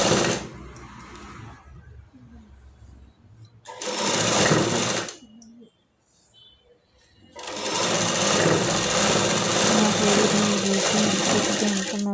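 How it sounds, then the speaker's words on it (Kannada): An electric sewing machine stitches blouse lining in close, rapid whirring runs: a short burst, then a pause, then a long steady stretch of needle chatter. "ಇವಾಗ ಲೈನಿಂಗ್ ಪೀಸಿಗೆ ನಾವು ಮೇಲ್ಗಡೆ ಪೀಸ್ ಇಟ್ಟು ಸ್ಟಿಚ್ ಮಾಡಬೇಕು"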